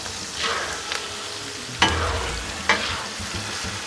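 Nacho meat is stirred and fried on a Blackstone griddle. A spatula scrapes and knocks across the hot surface twice over a steady close sizzle of grease.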